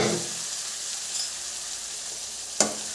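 A pan of coconut tempering sizzles softly and steadily while cooked pumpkin and red cowpeas for erissery are added, with a faint continuous hiss and one sharp clink near the end; no talking.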